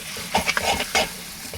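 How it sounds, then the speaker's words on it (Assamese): Meat fries in a hot pan, sizzling steadily while being stirred, with a few sharper scraping bursts. "এইটো অলপ পূৰা ভাজিব লাগিব এতিয়া। পূৰা ফ্ৰাই কৰিম ইয়াক।"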